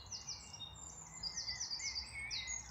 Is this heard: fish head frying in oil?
no